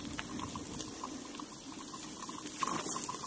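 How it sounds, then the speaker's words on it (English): Water streaming quickly along the edge of a path inside the cool Norwalk tunnel, a soft steady rushing and trickling that stays fairly faint, with no one speaking. "The water along the edge here is moving pretty quickly."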